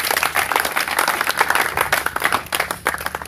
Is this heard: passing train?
no